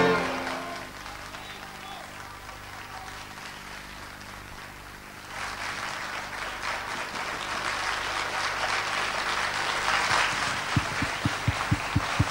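A theater audience at a live concert of Neapolitan song applauds warmly, the clapping swelling from a scattered start into a full, dense ovation with some sharp nearby claps.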